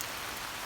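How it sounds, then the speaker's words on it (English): Heavy rain pours down in a dense, steady hiss of drops striking surfaces, constant and unbroken throughout this short stretch. "Today it is raining cats and dogs."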